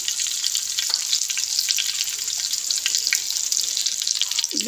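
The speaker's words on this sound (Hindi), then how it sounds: "तवे के ऊपर हमने 3 टेबलस्पून घी डाल ली है। ऐसे हम शामी एक ऊपर रख देंगे।" Chicken shami kebabs fry in ghee on a tawa, giving a steady, bright sizzle and crackle throughout, with a few faint pops and a soft clink near the end and no talking.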